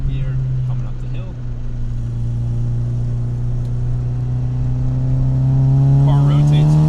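A 1987 Mercedes 190E 2.3 pulls uphill in third gear, its engine drone heard from inside the car, steady at first and then rising in pitch as it accelerates, with a voice speaking briefly over it.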